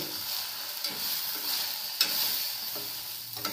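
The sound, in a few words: sesame seeds frying in pan for stuffed eggplant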